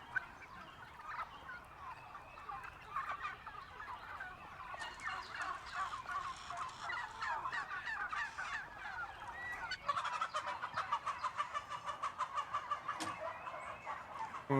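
A flock of farm turkeys gobbles and clucks in dense, overlapping chatter that stays fairly faint and constant, growing a little busier toward the end, with no talk.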